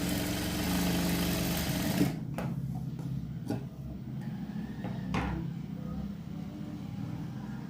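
A sewing machine hums steadily while running a double stitch on a blouse, then a few sharp clicks and knocks follow as it slows, all close and fairly loud.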